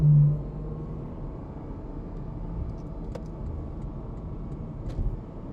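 A Porsche 718 Cayman GTS 4.0 with PDK gearbox drives on a highway in Sport mode, its engine giving a steady low rumble heard from inside the cabin, with no distinct rise in revs.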